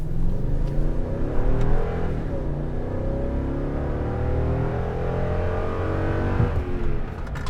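The 5.7-litre V8 of a 2021 Toyota Tundra TRD Off Road pickup roars under full throttle from inside the cab, revving up through several gear changes, loud and continuous.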